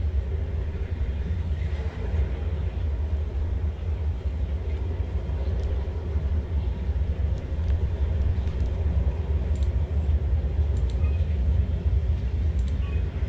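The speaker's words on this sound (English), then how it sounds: "In what appears to be a ridiculous underwater storm" Underwater storm in SOMA, a steady deep rumbling drone with a churning low roar that holds evenly throughout, with faint scattered creaks and clicks above it and no talk.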